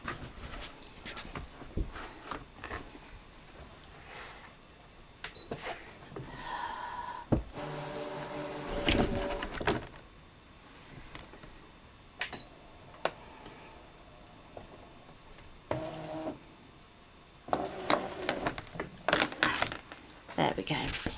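A ScanNCut cutting machine draws in its cutting mat with bursts of mechanical whirring and clicking, starting and stopping in uneven spurts over scattered handling knocks and thumps, while someone talks between the bursts.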